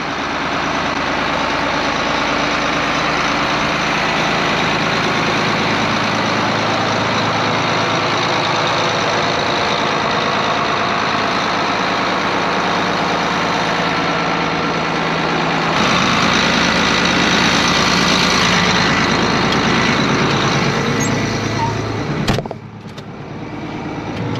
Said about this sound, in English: We got a new tractor.